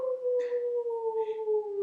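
A person imitates a wolf howl with a long, steady, slightly falling vocal tone, loud and close, with faint breathy noise alongside.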